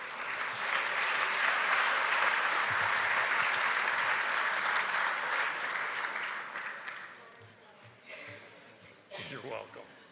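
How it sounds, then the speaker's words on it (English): Scattered applause from a synod assembly audience, fairly dense clapping for about six seconds before thinning and fading, followed by a few stray sounds. "thanks for that scattering of applause"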